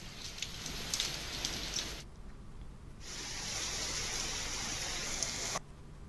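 Rain falls across Hyderabad during heavy Telangana downpours, a dense, even hiss of steady rainfall. It breaks off into abrupt cuts between shots.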